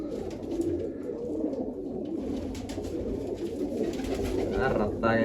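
Two pigeons cooing in a village, heard as soft, low repeated coos close by, with voices speaking intermittently in the background.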